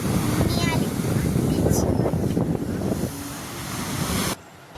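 Sea surf at a beach, a steady loud roar of waves with heavy wind buffeting the microphone, cutting off abruptly near the end.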